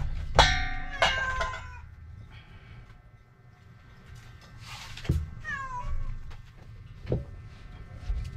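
A cat meows repeatedly at feeding time, several clear calls close by, with a rooster crowing and clucking in the background.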